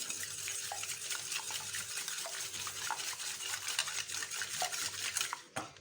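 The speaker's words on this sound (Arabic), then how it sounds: "غادي ناخذ البيض، غادي فيه غير واحد قرصه الملح، غادي نخلطو مزيان" Eggs with a pinch of salt being mixed for a tart's pastry cream, a utensil clicking and scraping steadily against a bowl in quick repeated strokes, fairly quiet and without speech, ending abruptly.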